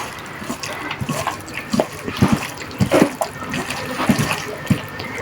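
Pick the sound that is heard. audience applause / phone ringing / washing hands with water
washing hands with water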